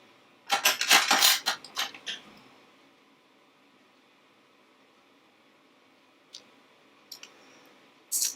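A quick burst of small, crisp snipping clicks, close and quiet, followed by a few faint isolated snips after a pause.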